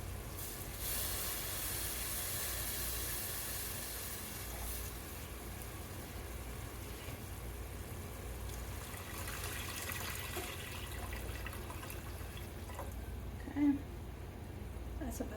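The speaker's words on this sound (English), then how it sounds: "I'm going to pour half of it" Homemade tomato juice poured from a container into a pot while canning Mexican tortilla soup, a steady liquid pour and trickle that runs the whole time with an even hiss and little change in loudness.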